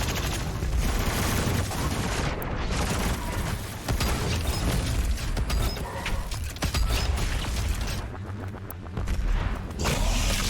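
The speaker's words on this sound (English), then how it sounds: "And we'll mow him down with the minigun." A minigun fires in Doom Eternal, The Ancient Gods Part 2, a dense, continuous mechanical rattle of rapid shots with whirring and clanking that barely lets up for ten seconds.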